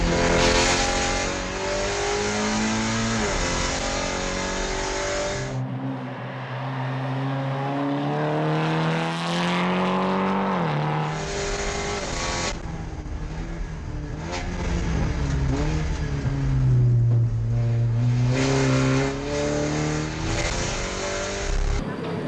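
SEAT Leon Supercopa race car driven on a circuit, its loud engine revving up and down through gear changes, the note rising and falling across several sweeps with a brief drop mid-way.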